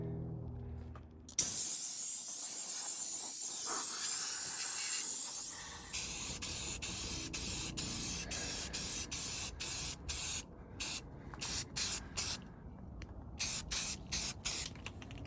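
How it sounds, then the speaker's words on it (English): Spray paint hisses onto a Dana 60 axle from a '78 Power Wagon, first as one long continuous blast, then in a run of short, evenly spaced bursts with brief gaps between them, close and steady. "So now we'll get some paint sprayed on this thing."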